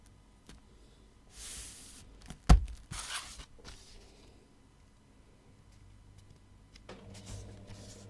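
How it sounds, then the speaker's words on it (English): A printer running noisily, whirring and rattling in bursts with a sharp clunk partway through, then a low mechanical hum settling in near the end. "my printer's going crazy"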